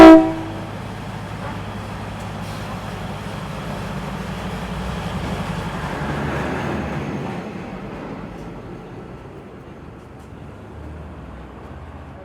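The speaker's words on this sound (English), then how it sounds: "so here comes the train" A train sounds a brief horn blast at the start, then rumbles steadily past, loud and close, as it runs through town beside the Talat Phlu night market in Bangkok.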